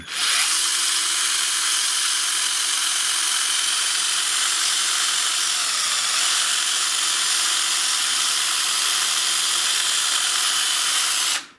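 A cordless drill serves as a homemade knife sharpener, spinning at top speed in one loud, steady high whine with a hissing, abrasive edge, running nonstop at close range before cutting off at the end.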